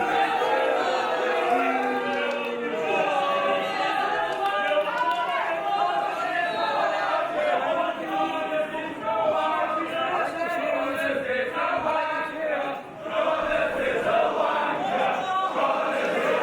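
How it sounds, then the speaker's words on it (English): Wrestling crowd jeering the champion at an indoor show, a loud sustained roar of booing and chanting that stays dense throughout, with a commentator talking over it. "This crowd showing their disdain for Connors."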